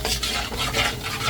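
Garlic sautéing in melted butter in a pan for a sweet and spicy mud crab dish, a steady close sizzle with light stirring clinks running the whole time, no voices.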